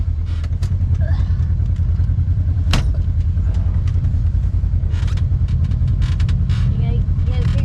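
A Polaris RZR on portals and 35-inch tires rumbles loudly over rough ground, its faulty front differential throwing out sharp creaks and clunks, one standout crack mid-run and clustered pops later, over constant engine drone.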